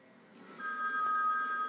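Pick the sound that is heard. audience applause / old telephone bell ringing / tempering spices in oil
old telephone bell ringing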